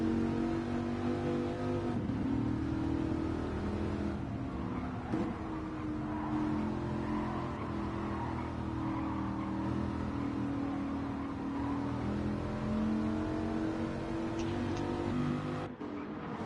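Race car engines roar continuously in a video game race, a loud sustained drone with shifting pitch as the cars accelerate and shift, and a brief dip near the end; no talking.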